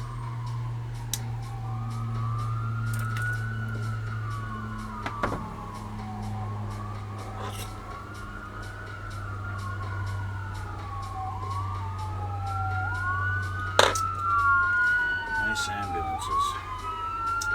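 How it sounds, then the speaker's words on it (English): Several ambulance sirens wailing in the distance, their overlapping rising and falling tones sweeping continuously beneath a steady low hum. "Ambulances."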